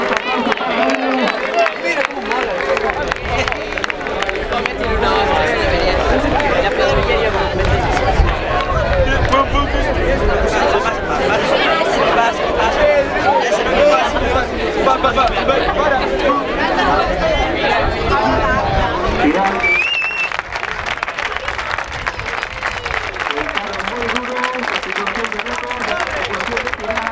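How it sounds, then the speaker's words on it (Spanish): A crowd at a Galician youth men's traiñeiriña rowing championship final gives medal-winning rowers brief applause, scattered clapping mixed with constant chatter and hubbub that runs on and quiets somewhat near the end. "Un corto aplauso para ellos."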